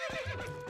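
A horse whinnies in Zelda: Twilight Princess HD, one short close neigh with a faint clip-clop of hooves beneath it and no talk.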